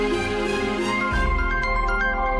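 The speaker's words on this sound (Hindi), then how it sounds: "अरे नन्ही बिटिया का फोन आ रहा है, उठा लो" A phone ringtone plays steadily as a melodic, tonal chime throughout a Hindi TV drama scene, with a low sustained musical drone underneath and no talk over it.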